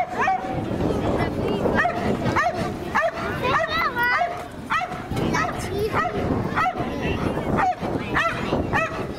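A police dog at a fire station open day attacks a car, with repeated excited barks, yips and whimpers close by. Voices talk over the noise throughout.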